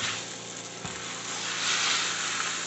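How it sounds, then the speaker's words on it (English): A beef roast sears in a hot pan for a slow-cooker pot roast, giving a steady close hiss and sizzle with a faint clink partway through. "So I'm trying to get that sear on it."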